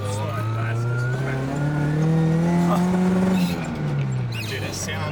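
Toyota AE86 being driven on its first test drive after restoration, a steady mid-pitched engine drone rising and falling with revs, heard from inside the car with loud road noise and people talking over it.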